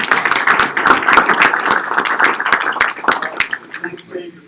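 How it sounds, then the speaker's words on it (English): Applause at a university seminar, a room of hands clapping in quick, sharp, dense bursts, close and loud, thinning out and fading toward the end. "I want a round of applause."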